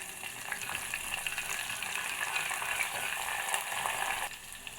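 Chopped onion and green chili sizzle in hot oil with mustard seeds as a tempering for tamarind rasam, a steady close crackle with light stirring that drops off abruptly near the end.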